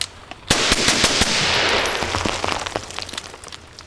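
Suppressed piston-driven AR rifle with a 16-inch barrel firing 55 grain XM193 rounds, a rapid string of sharp close shots run together, then a few scattered reports as it tails off, no speech.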